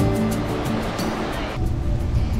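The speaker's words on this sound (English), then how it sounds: "we stopped at Miami Beach to walk through the sand and listen to the ocean" Ocean surf at Miami Beach, Barbados, a steady, loud wash of breaking waves that swells and rushes close by with no talking.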